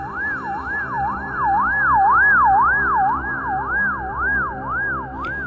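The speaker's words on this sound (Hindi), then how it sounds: "फिर बुल्ली एम्बुलेंस को सामने न ले जाके पीछे की तरफ ले जाने लगता है।" An ambulance siren in an animated cartoon wails steadily in a smooth rising and falling cycle, loud and continuous, with no talk over it.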